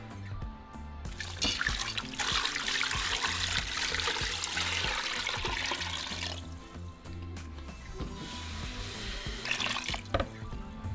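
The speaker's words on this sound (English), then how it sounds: "And now we're going to add about 15 to 20 cups of water." Water pouring and splashing into a cooking pot for a beef stew with garlic and bay leaves, a continuous close trickling rush with brief changes in flow, no talking.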